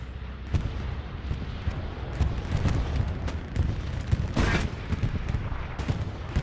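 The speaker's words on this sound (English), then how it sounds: "it looks like a bombing run is also coming down too" A bombing run in Hell Let Loose brings a dense barrage of explosions and gunfire cracks, loud and continuous, with sharp blasts scattered over a rumbling battlefield.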